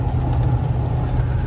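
Ford F250 pickup heard from inside the cabin, its exhaust with a 5-inch tailpipe tip giving a deep, steady low rumble that stays loud and constant, with no talking.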